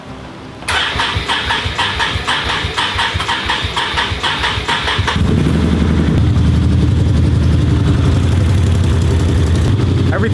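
Side-by-side UTV engine cranks with a rapid rhythmic starter churn for several seconds, then catches and settles into a loud, steady idle.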